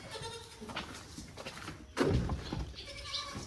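Young and mother goats bleat close by in a pen, with several overlapping wavering cries and one louder, harsher call midway, over a low background of movement.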